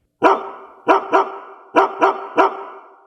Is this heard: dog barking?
yes